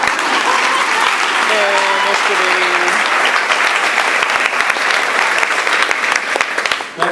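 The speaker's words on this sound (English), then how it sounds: "Let's give him a round of applause." A roomful of people applauds a retiring school district employee at a ceremony, with steady, dense clapping throughout and cheering voices and a shout rising over it.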